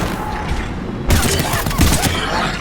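Sustained burst of gunfire in the video game Mass Effect 3, a dense crackling volley that jumps louder about a second in and keeps rattling with heavy low thumps underneath.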